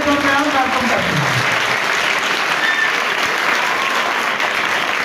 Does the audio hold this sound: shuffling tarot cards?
no